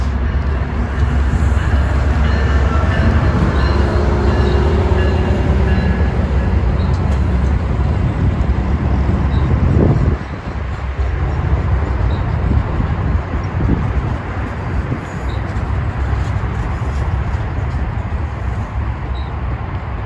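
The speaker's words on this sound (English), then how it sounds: "UP North Train 811 comes in with Unit 75" A Metra UP North commuter train led by an F59PHI locomotive arrives, a loud, sustained rumble and roar of the engine and rolling wheels that dips slightly midway and carries on steadily.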